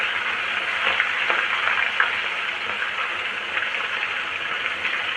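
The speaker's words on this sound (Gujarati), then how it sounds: "હવે જે ઓનિયન છે એને આપણે તેલમાં નાખી દેવાની છે અને સરસ મજાની તળી લેવાની છે." Onion frying in plenty of hot oil for a blooming onion, giving a steady, dense sizzle with small pops and crackles that runs continuously and close up, with no talking.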